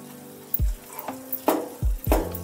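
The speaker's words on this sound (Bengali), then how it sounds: "বেসন দিয়ে ভালোভাবে একটু নাড়াচাড়া করতে হবে।" Gram flour is stirred into hot oil in a pan, with scattered scraping thumps of the spoon over a steady sizzle, close and fairly loud, with no talking.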